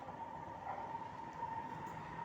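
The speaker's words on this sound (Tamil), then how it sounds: "இங்கே வீட்டுக்கு மேலே இருந்து பார்த்தாலே மெட்ரோ ட்ரெயின், எம்ஆர்டி போகிறது தெரியும்" A Singapore MRT metro train runs past below a 16th-floor apartment block, heard as a faint, steady distant rumble with a sustained whine, continuous and without talk.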